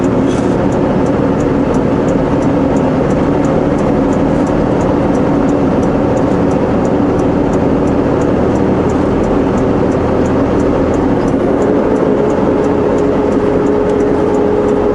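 A car engine labours steadily uphill in a lower gear on a highway, a continuous loud drone with a rising whine toward the end, no voices.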